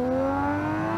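In BeamNG.drive, a turbocharged inline six engine holds a loud, steady rev with a clear tonal drone that dips slightly in pitch, heard close and alone.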